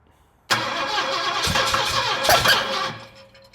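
A 1929 Ford Roadster barn find fires up for the first time in 20 years, cranking then catching with a sudden loud roar, running roughly with sputters and uneven bursts for a few seconds before cutting out, up close.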